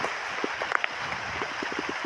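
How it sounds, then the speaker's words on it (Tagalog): Rain falls steadily in a rural village setting, a continuous soft patter with scattered louder drops striking nearby surfaces, close and unbroken, with no voices. "Ulan lang yan."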